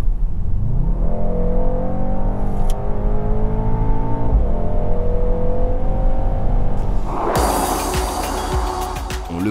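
A Mercedes-AMG GT 4-door 63S engine pulls hard on the road, its roar rising through the gears with a shift partway through, loud and close, with a burst of rushing noise near the end.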